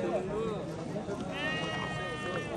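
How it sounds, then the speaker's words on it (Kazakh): Sheep bleating at a busy outdoor livestock market, with several wavering calls, one longer and higher, heard mid-distance under people talking nearby. "Жемде турган койлор."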